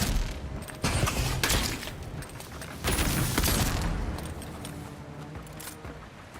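Gunfire in the fantasy video game Avowed: dense, loud bursts of shots and impacts layered with game effects and rumbling, surging at about 0.8 and 3 seconds and easing toward the end.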